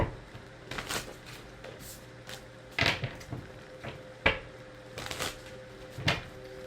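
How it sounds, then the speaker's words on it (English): A deck of tarot cards is given a quick shuffle, with soft riffling bursts and card slaps coming in uneven bunches close by over a quiet room hum. "let me go ahead and do a quick shuffle"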